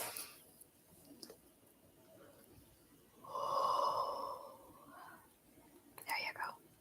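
A person takes one deep, drawn-out breath in at close range, a soft airy rush lasting about a second, with faint breathy noises before and a brief exhale-like burst near the end.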